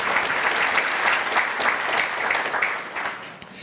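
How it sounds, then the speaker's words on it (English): Audience applause at a children's summit event, a steady dense clapping from a crowd that holds for several seconds before thinning slightly at the end. "So if we could give her another round of applause"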